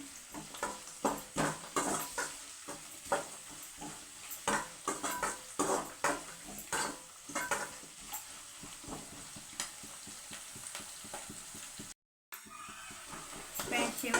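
Frying in oil in a pan while making puliyogare, a soft steady sizzle with stirring scrapes and clinks running throughout, briefly cutting out near the end.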